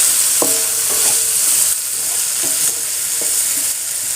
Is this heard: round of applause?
no